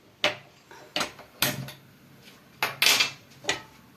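A heavy-bottomed saucepan is picked up and set down in a kitchen, giving about six sharp, close metallic clunks and clatters spaced irregularly over a few seconds, with quiet gaps between.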